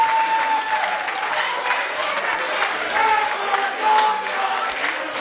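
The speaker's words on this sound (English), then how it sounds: "We will find out as you listen to this crowd." Wrestling crowd at an RWA Thanksgiving Throwdown event applauding and cheering steadily, a dense mass of clapping with scattered whistles and shouts, loud and continuous throughout.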